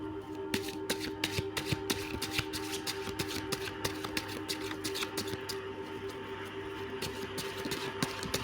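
Tarot cards are shuffled in a rapid run of crisp flicks and riffles over a steady low hum, close and continuous for several seconds, with no speech.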